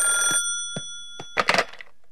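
A cartoon telephone bell rings in a brief electronic burst, then stops and is followed by a few close clunks and clatters.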